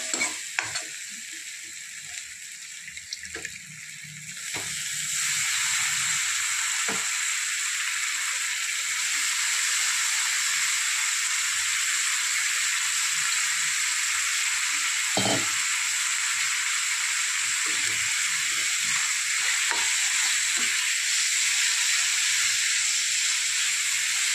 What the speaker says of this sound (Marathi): आता टाकणार आहोत आपण डाळ